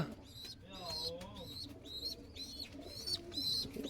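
Bird calls sound repeatedly at a steady rhythm, cooing and chirping faintly at a distance over a murmur of background voices.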